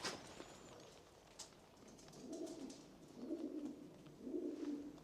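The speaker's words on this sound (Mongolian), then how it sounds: "Тагтаа ингэж дурддаг" Pigeon cooing: a few soft, low, throaty coos repeat in a slow rhythm at moderate distance, over faint background ambience.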